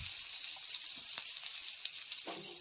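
Chopped garlic and green chillies with five-spice seeds frying in hot oil in a wok, a steady close bright sizzle with a few crackling pops.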